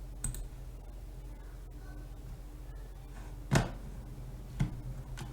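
A computer mouse gives a few sharp, close clicks, two of them distinct, over a faint steady room hum during website theme editing.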